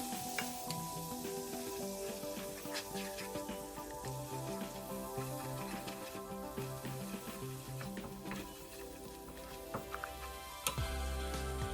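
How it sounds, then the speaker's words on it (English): Flour being stirred into melted butter in a pan while cooking creamy spinach, a soft continuous sizzle with light scraping and tapping of the utensil, close and fairly quiet, with a louder knock near the end. "And then I am going to add 1 tablespoon of flour. Okay, then I'm gonna stir that up."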